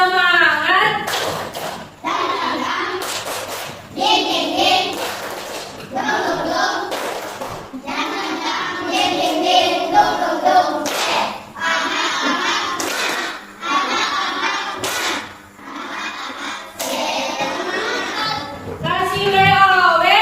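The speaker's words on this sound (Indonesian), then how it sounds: "Tepuk semangat" A fourth-grade primary school class performs a rhythmic spirit clap routine, with sharp group claps falling in patterned bursts between children's chanted lines. The clapping comes through loud and near across a lively classroom.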